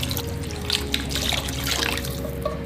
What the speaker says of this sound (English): now I just wanna cover the meat with water